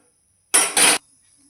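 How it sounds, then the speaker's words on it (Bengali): A metal kadai is set down on a lit gas stove for cooking, giving a close, loud double clank and scrape lasting about half a second, followed by quiet. "কড়াই চাপে দিলাম"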